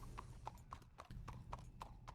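A horse's hooves clip-clop at a steady trot through a western roleplay video game, sharp regular strikes about every quarter second over a low rumbling background.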